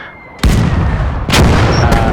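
Two heavy booms of artillery fire in the World War II strategy game Gates of Hell, about a second apart, each a loud, close blast followed by a long rumbling decay.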